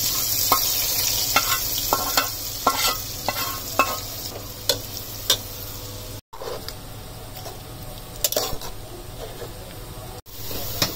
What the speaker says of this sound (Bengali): এখন আম্মু কচু শাকের সাথে মিলিয়ে দিচ্ছে।